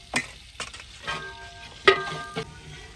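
Garlic and ginger paste dropped into hot oil in a large pot for beef degi gosht, giving a soft sizzle broken by a few distinct stirring knocks and clinks, no talking.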